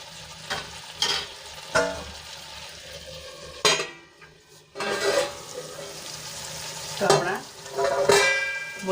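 Finely chopped radish greens cook in a pan, with a low sizzle under repeated scraping and stirring strokes from a utensil, plus a few sharp clinks against the pan.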